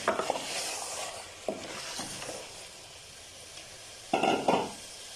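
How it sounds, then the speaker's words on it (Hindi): Spoon stirring turnip and meat curry (shalgam gosht) in a cooking pot, with a few scraping, clattering bursts separated by quieter sizzling gaps. "अब इसमें चमचा चला के अच्छी तरह से मिक्स कर दूंगी"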